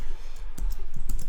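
A computer mouse clicks OK, a handful of short, sharp, close clicks in quick succession, with no one speaking.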